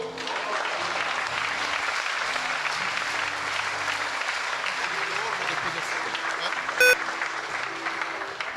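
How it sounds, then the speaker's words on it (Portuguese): A church congregation applauds together in a steady, full wash of clapping, with a low hum and a brief electronic tone partway through. "Você pode aplaudir ao Senhor?"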